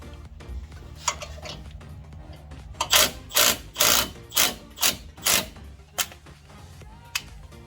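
A wrench loosens a fastener on the front lower ball joint of a 2006 Ford Explorer, giving about half a dozen close, sharp metallic ratcheting bursts in quick succession, with a few lighter clicks before and after.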